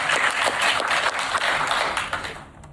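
An audience claps together, loud and dense, with the applause thinning slightly toward the end.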